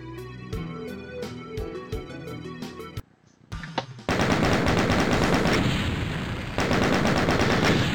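Rapid gunfire from the Doom SIGIL episode: loud bursts of repeated shots with a short pause near the middle, then a dense, sustained barrage of game action and firing with no talk.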